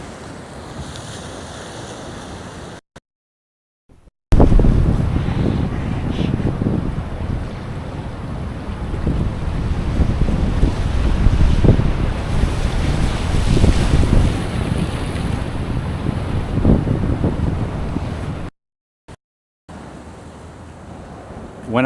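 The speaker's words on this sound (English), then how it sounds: "And the sound of the waves, it's so pretty." Ocean waves at a park shoreline in San Francisco, with a loud rolling surf wash and heavy wind buffeting the microphone, continuous through the middle and cut by brief dropouts near the start and end.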